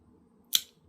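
Snips cutting a nub off a part for a Briggs 12 HP flathead carburetor, giving a single quick sharp snip close by against faint background hum.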